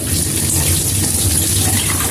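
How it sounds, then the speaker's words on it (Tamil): Tap water runs steadily over a tumbler being washed with soap, a continuous close splashing gush with no pauses. "சோப் போட்டு நெக்ஸ்ட்டு இது எப்படி வாஷ் பண்ணுறதுன்னு பாருங்க."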